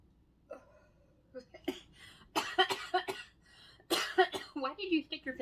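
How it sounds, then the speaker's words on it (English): Several rough coughs and throat-clearing sputters burst out close by, uneven and spluttering, with a faint hiccup-like catch early on. "And you see Mama coughing."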